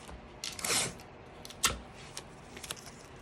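Tape is peeled and pressed onto one side of a zip bag, heard as a few short crackling rips and taps, close and quiet, with no talking.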